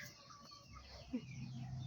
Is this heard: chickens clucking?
yes